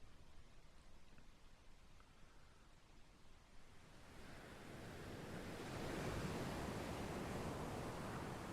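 Southern Ocean waves roll as a broad wash of surf and wind, quieter at first and then building into a louder, fuller roar partway through.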